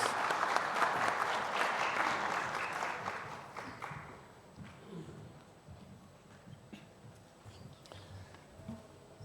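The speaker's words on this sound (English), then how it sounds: "maybe you can show your appreciation by clapping your hands for our partners" An audience at an ITU opening ceremony claps for the partners, full applause for about four seconds that then fades into scattered claps and room noise.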